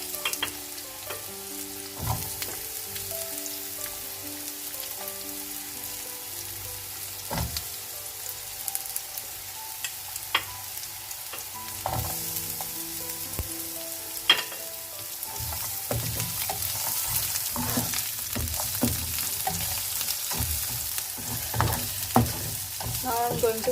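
Chopped onion frying in a pan for Kolhapur-style mutton kharda, a continuous crackling sizzle broken by frequent spatula taps and scrapes, growing busier toward the end, close and with no speech.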